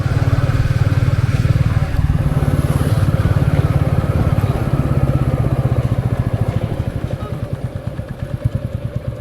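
A Royal Enfield Classic 350 motorcycle engine thumps loudly with a steady, rhythmic low beat as it rides along, the pulsing slowing slightly near the end.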